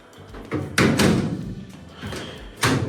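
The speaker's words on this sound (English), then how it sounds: "And now I can open and close the door." GE washing machine door being swung open and shut, several close thuds and clunks of the door against the frame, the loudest near the middle and another near the end.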